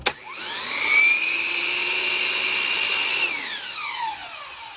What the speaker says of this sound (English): I'm going to set my saw at that 31, line up my mark with my zero clearance